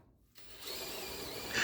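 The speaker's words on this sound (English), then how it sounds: "Drill a hole, and that's going to be for our plug welds." A power drill boring plug-weld holes through sheet metal during rocker and floor pan work on a 1962 Chevrolet Impala, beginning after a near-silent moment and running as a steady, close whine that swells louder at the end.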